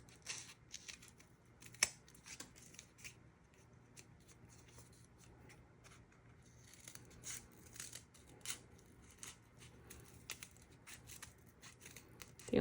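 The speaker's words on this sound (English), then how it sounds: "you could even make these pretty straight cuts with kid scissors" Quiet, repeated snips and crisp slicing of kid scissors working through folded paper for paper snowflakes, irregular cuts with soft rustling between them.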